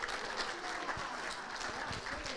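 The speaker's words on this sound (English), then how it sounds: "A big round of applause for everyone." A Palm Sunday church congregation claps together in a dense, sustained round of applause, steady and fairly distant-sounding throughout the short burst.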